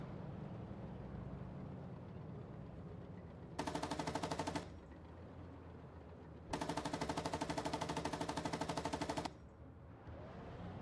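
Two long bursts of rapid, evenly paced cannon fire ring out from a warship firing APDS rounds in a naval game, the first about a second long and the second nearly three, over a low steady drone.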